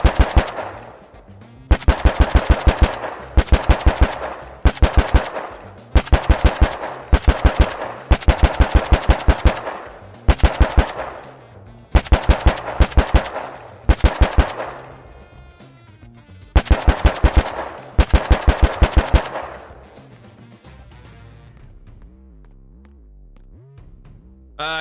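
Submachine gun fire in a video game comes in a long series of short, rapid automatic bursts, loud and close with brief gaps between them, then trails off into fading ringing echoes and near silence.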